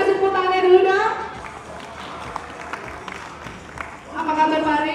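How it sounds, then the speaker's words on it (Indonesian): Audience at a coffee-themed creative industry talk event in Gianyar, Bali, clapping in a steady patter for about three seconds between stretches of a speaker's voice at the start and end. "Boleh kasih tepuk tangannya dulu dong?"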